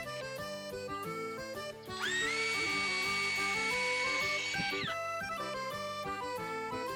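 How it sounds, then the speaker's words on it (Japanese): A Makita HR202D hammer drill is test-run in drill-only mode, giving about three seconds of steady high motor whine that starts and stops cleanly over continuous background music. "試運転するよ。 まずはドリルモードだ。"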